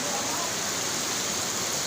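Heavy, steady downpour with strong wind during flooding in Kabupaten Sukabumi, a dense unbroken wash of rain noise filling the whole clip with no pauses.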